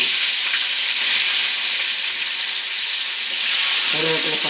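A tempering of mustard seeds, asafoetida and curry leaves sizzling and hissing in hot oil, loud and continuous, with a brief faint sound of activity near the end.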